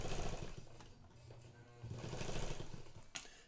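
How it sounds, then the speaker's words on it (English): A 1959 Italian Necchi sewing machine stitches a short zigzag, its steady motor hum and rapid needle chatter running continuously at close range without talk. "Now, I'm going to come forward again, same width, but we're going to have a much shorter zigzag stitch."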